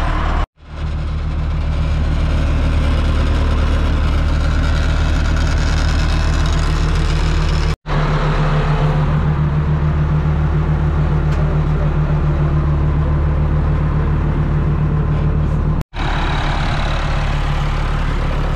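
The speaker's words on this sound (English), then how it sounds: "We're gonna start making our way on the tractor." A tractor engine runs at a steady low throb as it drives down toward the boat, loud and close, with two brief cuts in the sound.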